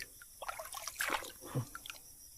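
Shallow river water trickles and splashes faintly in a short burst of small drips and sloshes, close by and quiet.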